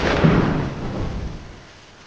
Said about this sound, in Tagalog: ang maaraw na langit ay naging malakas na bagyo na kumitil ng 21 buhay